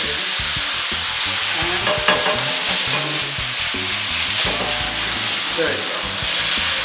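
A pan being deglazed with cognac or brandy for pepper-crusted filet mignon sizzles and hisses steadily while it is stirred off the heat, and someone speaks briefly over the frying.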